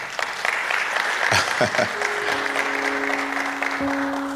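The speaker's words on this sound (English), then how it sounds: "Let's clap for Pastor Pete" Audience applause at a business talk on competitive advantage, a steady dense wash of clapping from a room full of people, fairly loud and continuous throughout, with a sustained tone and a voice briefly heard underneath.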